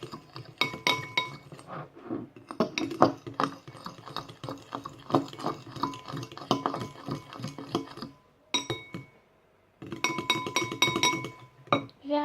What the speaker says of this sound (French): Vous allez mélanger avec votre fourchette.